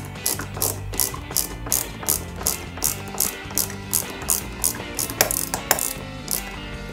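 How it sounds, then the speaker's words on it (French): Two DM screws are driven into the suspension of a 1/8 scale Lotus Renault 97T model with a small ratcheting screwdriver, giving a close, steady run of rapid clicking bursts in an even rhythm, with no talking. "on va le fixer avec ici deux vis DM"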